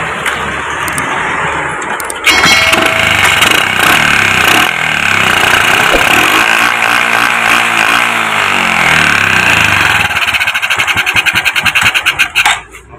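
A Honda Supra X 125 motorcycle engine fitted with an old Supra carburetor, running throughout: a steady, close, loud mechanical drone and rattle that picks up sharply after a couple of seconds and then cuts out near the end.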